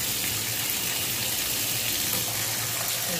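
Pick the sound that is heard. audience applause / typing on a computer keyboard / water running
water running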